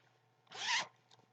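A zipper on a small vinyl pouch is pulled open in one quick, close, rasping stroke lasting about a third of a second, followed by soft faint handling clicks in a quiet room.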